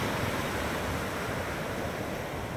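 Sea waves wash onto the beach near Hive Beach, a steady, close, broadband rush of surf and spray that holds at an even level throughout, with no voices.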